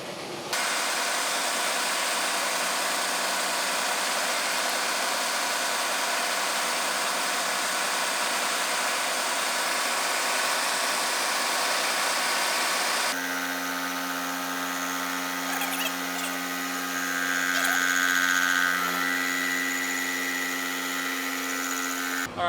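A Pacemaker lathe doing heavy turning at 165 RPM runs with a steady mechanical hum and whine, its tone shifting partway through into a more tonal, harmonic drone; no talking.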